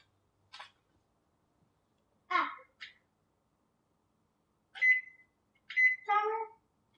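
A kitchen timer gives a few short, clear electronic beeps while being set for gelatin to sit, separated by gaps and mixed with brief cat-like cries and small clatters.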